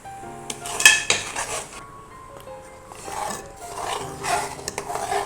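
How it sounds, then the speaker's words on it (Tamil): A spoon scrapes and clinks against a pan while a thick mango candy mixture is stirred continuously, with irregular close scraping strokes and sharp metallic taps over soft background music. "இது இப்படி நல்லா கிளறிட்டே இருப்போம்"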